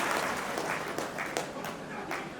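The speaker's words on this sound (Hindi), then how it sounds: "एक बार जोरदार आप सभी का तालियों से स्वागत है" A crowd at a Hindi poetry gathering applauds steadily, a dense wash of clapping with scattered sharper claps, loud and continuous throughout.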